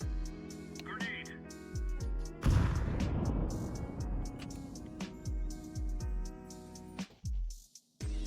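A grenade goes off in a first-person shooter with a sudden loud, broad blast that rumbles on for several seconds, surrounded by lighter game noises and people talking.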